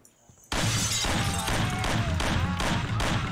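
Rapid bursts of Colt pistol gunfire in the video game Mafia, a dense string of loud, sharp shots breaking in suddenly after a quiet moment, with a voice talking underneath.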